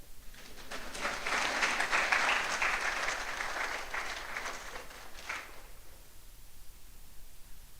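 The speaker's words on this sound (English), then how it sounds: "Clap for God." Audience applause at a university inaugural lecture, a dense burst of clapping that swells quickly, holds for several seconds, then fades out into a quiet room.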